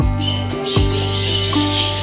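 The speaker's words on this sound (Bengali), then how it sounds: "প্রথমেই প্রবেশ করতেই দেখতে পাবেন অনেকগুলো পাখির খাঁচা, আর এখানে রয়েছে বিভিন্ন রকমের পাখি।" Assorted caged birds, including yellow budgerigars, chirp and call close by in an aviary at Baruipur mini zoo, with short tweets and coos repeating over a steady background hum.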